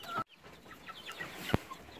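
Hens cluck in a winter henhouse, scattered short clucks and murmurs at moderate distance with one sharp nearby squawk, no talking.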